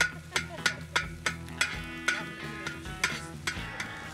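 Eggs and potatoes being scrambled on a hot camping disco for breakfast burritos, with a steady train of spatula scrapes and taps roughly every third of a second over a low sizzle, close and moderate in level.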